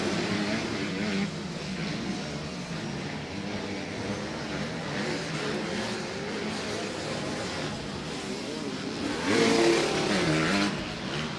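Motocross race motorcycles at a senior club round on a dirt track, engines droning and revving hard against the rev limiter, a dense continuous roar with a louder surge near the end.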